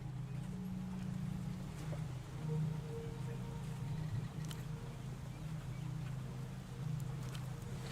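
Rain falls steadily in the video game Project Zero, a constant soft patter over a low droning hum, with a few faint scattered clicks.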